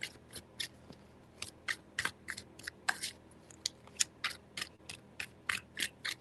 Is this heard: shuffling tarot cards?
yes